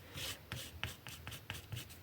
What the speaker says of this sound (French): Je vais le gommer tout de suite.